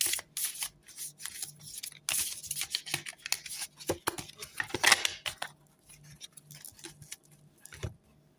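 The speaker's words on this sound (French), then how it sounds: "Ok, on va juste prendre une carte." Cards from an erotic fantasy tarot deck being shuffled and drawn, a close, quiet series of papery riffles, flicks and snaps, uneven and bursty, with brief pauses between.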